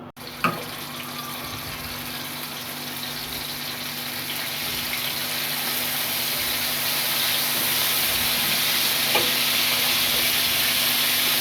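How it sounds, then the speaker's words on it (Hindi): Liver (kaleji) fries in ghee on a hot tawa, giving a steady, close sizzle that builds slightly over time with a few sharp crackles and no voices. "अब ये तवा गर्म हो चुका, तो हमने इस पर थोड़ा थोड़ा कर कर इसको फ्राई करना है।"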